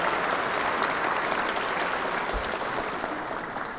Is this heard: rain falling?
no